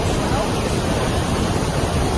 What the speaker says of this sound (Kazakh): Ниагарский водопады.